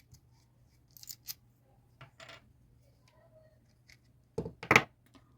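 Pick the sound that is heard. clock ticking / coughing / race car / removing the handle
removing the handle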